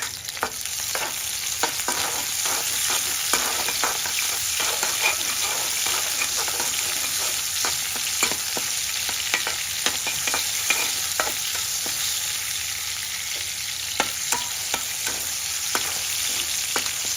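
Steady sizzling from a hot pan as chili and garlic are stir-fried, with frequent scraping clicks of a utensil against the pan, continuous and close.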